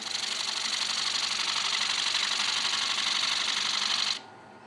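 A vacuum pump in a woodturning shop runs with a steady, high, buzzing whir close by, then cuts off abruptly near the end, leaving a low background hum.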